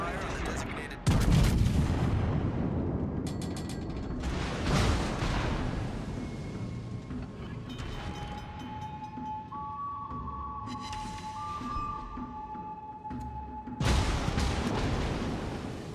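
Heavy naval artillery booms from warships in World of Warships: Legends, with big blasts at the start and end and rumbling battle noise between, plus game alert tones.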